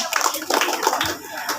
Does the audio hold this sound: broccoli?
no